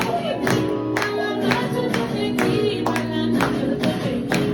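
Rhythmic hand clapping from a group keeping time with music, sharp regular claps over a steady background.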